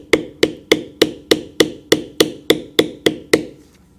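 A mallet strikes a bevelling tool on leather in about a dozen evenly spaced, sharp close taps, each with a short ringing decay, the blows slightly lighter toward the end.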